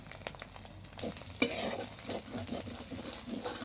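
Chili and turmeric powder sizzle in a hot pan while a spoon stirs and scrapes, the crackling frying rising and falling under occasional utensil clatter.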